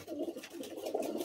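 Several pigeons coo softly in a loft, overlapping low burbling calls that carry on steadily and fairly quietly.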